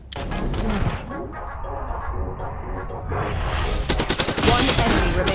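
A Stinger submachine gun in a first-person shooter video game fires rapid bursts up close, with a loud rattling burst at the start, a quieter lull, then sustained heavy automatic fire.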